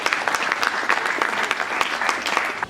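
A church congregation applauds during a worship service, dense steady clapping from many hands filling the room for a few seconds, with scattered sharper claps standing out and no talk over it.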